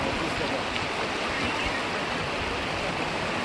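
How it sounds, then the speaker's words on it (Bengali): Strong river current of the Ganges at Rishikesh rushes loudly and steadily, a continuous broad roar of churning water close by with voices mixed in. "দেখো দেখো দেখো, স্রোত কিন্তু প্রচুর"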